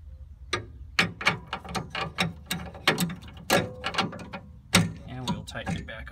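A CNG high pressure filter housing being screwed back on by hand, with a run of close, crisp ratcheting clicks and scraping metal turns in an irregular rhythm.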